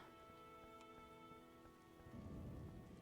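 Rain from The Witcher Enhanced Edition hisses steadily and faintly, with scattered drop ticks and thin tonal background lines, then swells heavier and louder over the final second.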